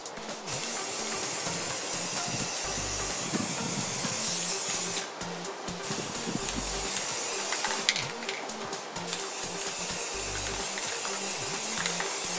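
An aerosol can sprays primer onto homemade cosplay parts in short bursts, a loud, close hiss that pauses briefly between passes, with faint rattling and clicks around it.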